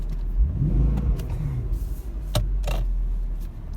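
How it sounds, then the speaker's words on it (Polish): A Mercedes ML 63 AMG with a 510 hp engine running on LPG gives a quick rev and then pulls away, the engine note rising and fading close by with no talk over it. "Jedna przygazówka i jazda."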